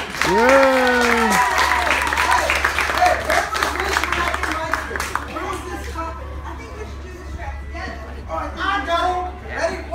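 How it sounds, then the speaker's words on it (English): Applause from the audience at an Old West Fest comedy escape show, mixed with loud talk and whoops from the stage at first, then thinning to scattered claps under voices. "Everyone give them a round of applause!"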